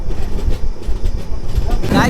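Loud, rumbling train noise fills the inside of a moving coach of a superfast express train (number 12625, Thiruvananthapuram Central), with heavy low thumping and rattling over a couple of seconds.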